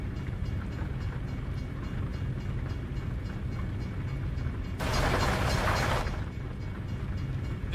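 A train stuck on the tracks in a video game gives a steady low mechanical rumble, broken by a loud hissing burst of about a second partway through before the rumble carries on.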